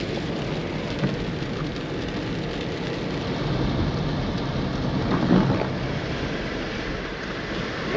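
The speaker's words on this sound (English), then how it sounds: "now it's raining, so we're kind of screwed." Steady heavy rain pouring down, a dense continuous hiss with no voices, with a low rumble swelling briefly in the middle.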